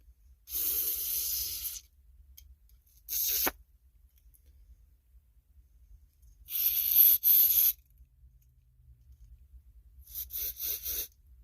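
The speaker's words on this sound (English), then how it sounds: "you see a lot of spray spraying back at me" Four sharp bursts of carburetor cleaner hiss from an aerosol can onto a Craftsman T2200 riding lawn mower carburetor, each lasting about a second, separated by quiet pauses. Close and loud, with no talking.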